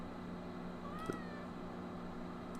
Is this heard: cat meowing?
yes